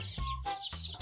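Domestic chickens clucking in a farmyard coop, a few close, repeated clucks in uneven bursts with no talk.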